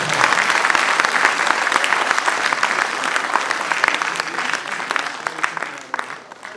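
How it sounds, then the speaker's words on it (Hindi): Hearty audience applause at a Hindi poetry recital, dense and continuous clapping that holds strong for several seconds before tapering off near the end. "एक बार तालियां बजाए जोरदार"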